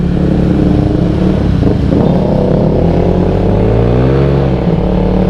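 A motorcycle tuned with a new ECU map roars loudly from its exhaust while riding, and the engine pitch rises and sweeps as it accelerates through the revs, with heavy wind buffeting throughout.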